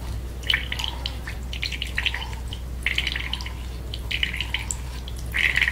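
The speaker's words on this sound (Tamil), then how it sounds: "இப்போ நம்ம வந்து இதை வடிகட்டிக்கலாம்." Ragi (finger millet) milk drips and trickles through a sieve during straining, in irregular clusters of close liquid drips repeating every second or so over a low steady hum.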